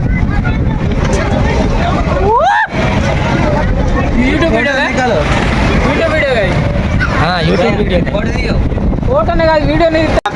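A boat ride in Ayodhya with wind buffeting the microphone and water noise, while several people talk and call out over it throughout.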